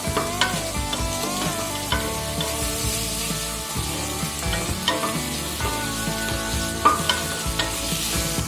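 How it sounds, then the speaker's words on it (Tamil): Tomatoes soften while sautéing in a pan for paneer biryani, a steady close sizzle broken by frequent scraping and clinking of a spatula as they are stirred, with faint tonal background music running underneath. "தக்காளி நல்லா வதங்கிடுச்சு"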